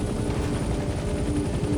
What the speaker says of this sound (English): I am using some decreased collective right now to bring the helicopter